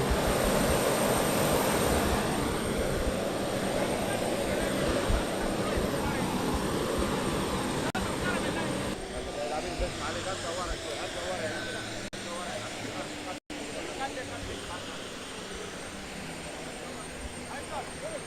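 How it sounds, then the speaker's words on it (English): A plane's engine roars loud and continuous on the tarmac at Juba International Airport during the arrival of a bishop's body, with a steady broadband drone and voices speaking over it. "that is actually the noise of the plane"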